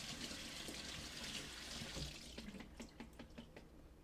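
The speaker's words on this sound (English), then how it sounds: "Bring them over to the sink, give them a quick rinse." Tap water runs steadily into a kitchen sink while fresh blueberries, raspberries and strawberries are rinsed, a close broadband splash that thins out into separate drips and trickles toward the end.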